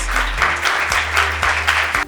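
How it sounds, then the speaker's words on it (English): Panel audience at a business school event gives a round of applause: steady crowd clapping, moderately loud and sustained, with a low hum and faint thumps beneath it and no speech. "If we can give her a round of applause."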